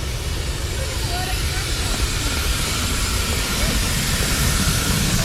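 A small-scale live steam Pennsylvania Railroad locomotive runs at a spring miniature-train meet, giving a steady, loud hiss and rumble of steam and running gear that holds without break and with no talk over it.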